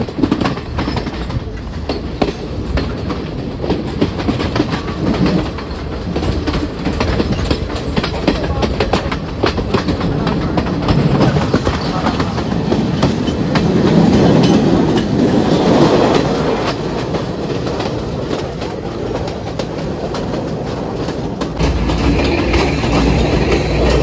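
A train running from Ella toward Nanu Oya in Sri Lanka, a steady loud rumble with rhythmic clickety-clack of wheels on rails and occasional squeals, heard from inside the carriage throughout with no break.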